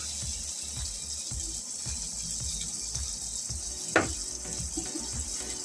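Black cumin and a green chilli sizzle in hot oil for tempering. A constant bright frying hiss carries soft ticks and pops, with one sharper crackle midway and no talk.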